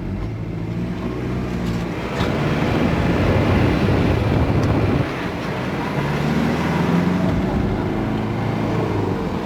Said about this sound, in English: I made it to third gear this time instead of fifth